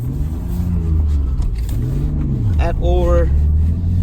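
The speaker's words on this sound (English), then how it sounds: "the acceleration of the car is really beautiful as well" A Toyota Supra or Nissan Skyline GTR R33 sports car accelerates on the road, its engine rumbling and rising in pitch up close as the driver speaks over it.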